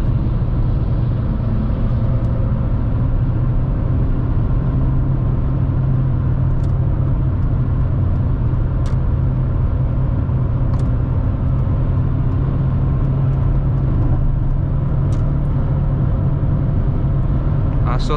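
A car accelerates hard at full throttle on the autobahn, heard from inside the cabin as a loud, steady engine drone over road rumble, with faint clicks now and then.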